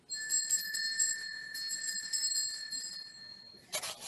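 A small bell rings steadily and clearly for about three and a half seconds with a bright sustained tone, then a short rustling burst follows, with no talking.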